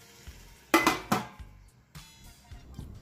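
A metal pot of chicken dum biryani being closed with its lid over a low flame: two loud close clanks of lid against pot, then quieter scattered knocks and light rattles.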